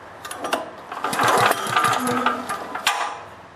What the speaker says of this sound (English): So I'm going to hold it, now pull the engine over.